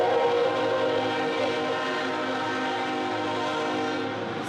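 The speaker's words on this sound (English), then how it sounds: "let this train pass, because it's getting really loud, the train" A loud train passing close by, a sustained rumbling roar with tonal horn-like bands holding steady throughout and no voices over it.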